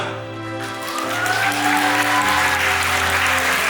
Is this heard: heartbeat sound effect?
no